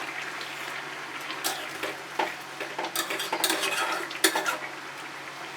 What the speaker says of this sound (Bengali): ঝোলটা কিছুটা কমে আসার পর আমি আবারও একটু মাছটা নেড়ে দিচ্ছি